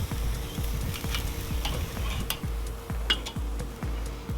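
Chicken fajitas and vegetables sizzle steadily on a Weber kettle grill, with a regular scraping rhythm of spatula flips and light metallic clinks, close and continuous, no talk.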